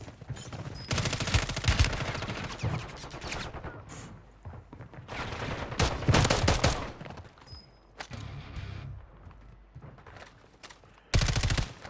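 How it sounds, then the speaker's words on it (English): Rapid machine gun bursts in a multiplayer shooter game, loud close fusillades separated by short pauses, ending with a final sharp volley. "now I have a machine gun"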